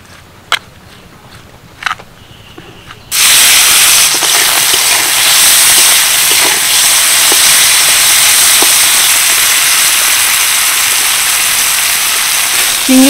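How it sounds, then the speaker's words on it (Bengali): Prawns frying in mustard oil with salt and turmeric, a loud steady hissing sizzle that bursts in suddenly after a few quiet clicks and continues close up. "চিংড়িগুলোকে বেশ সুন্দর করে ভেজে নিয়েছি,"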